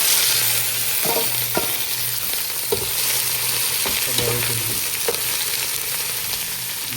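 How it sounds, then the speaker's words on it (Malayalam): Chili frying in oil in a pan for a Tamil Nadu–style chicken curry, a steady close sizzle with occasional stirring clinks and scrapes throughout, no voices. "ഈ മുളക് നന്നായിട്ട് വഴറ്റി കൊണ്ടുവന്നു"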